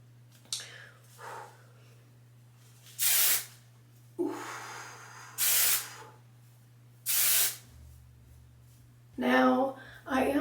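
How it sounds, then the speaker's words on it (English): Hair spray misted at the roots of curly hair in a quick volumizing routine, several short separate hissing bursts spaced a second or two apart, close and fairly loud, with brief talk between them. "spray at the root"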